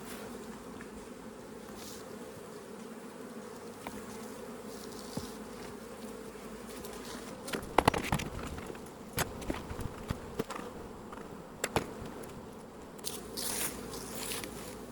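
Honey bees buzz steadily around a hive during a fall beekeeping check, a dense continuous drone with occasional louder close passes and some handling clicks and knocks in the second half.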